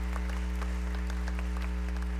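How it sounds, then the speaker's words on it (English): Audience applauding at a North Central College new student convocation, a steady dense patter of many hands clapping in a large hall over a constant low hum, no voices. "That's clapping in advance for you."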